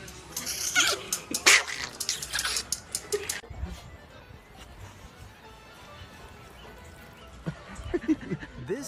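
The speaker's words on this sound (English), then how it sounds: "This dog was not taking any chances." A dog moves about indoors, with sharp clattering bursts early on and softer scuffs, sniffs and faint whimpers afterward, all fairly close.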